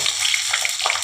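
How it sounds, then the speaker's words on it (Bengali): Cinnamon, cloves, bay leaves, whole cumin and a slit green chilli sizzle in hot oil, a close, steady bright crackle and hiss with small pops throughout, no voices. "দারচিনি, লবঙ্গ, দুটো তেজপাতা দিয়ে দিলাম, গোটা জিরে দিয়ে দিলাম, একটা কাঁচা লঙ্কা চেরা দিয়ে দিলাম"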